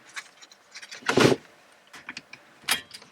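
A car seat belt is pulled across and fastened, with soft rustling and sliding followed by a sharp latching click, then another brief click a moment later, all close and without talk.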